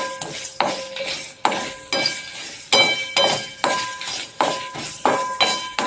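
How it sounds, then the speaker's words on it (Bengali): A spatula clanks and scrapes rhythmically against a metal wok stirring a jaggery mixture, each sharp strike followed by a short scrape, repeating steadily and close up. "এটা কিন্তু নাড়তে থাকতে হবে, ছেড়ে দিলে কিন্তু হবে না"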